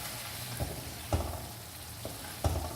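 Potatoes fry on high flame in a pan, a soft continuous sizzle broken by three or four clanking stirs and scrapes as they are mixed, close and fairly quiet, with no voices.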